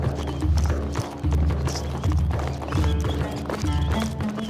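A horse gallops with steady, loud clip-clop hoofbeats in repeating bursts, and a neigh rises briefly over a driving music bed.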